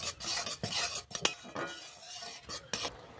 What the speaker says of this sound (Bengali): নারকেল কোড়াটাও ভালো করে মিশিয়ে নেব।